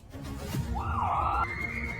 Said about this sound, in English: Then sirens blared from outside the building.